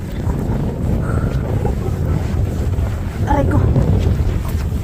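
Strong wind gusts roar across the microphone beside a snowy frozen lake, a steady loud rumble with a person speaking briefly under it.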